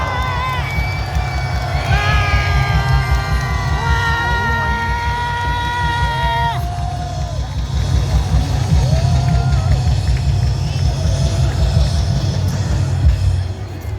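A rally crowd in Seoul's Gwanghwamun Square rises for a standing ovation, a dense, continuous roar of cheering and clapping that holds loud and steady throughout, with a pitched voice calling out over it.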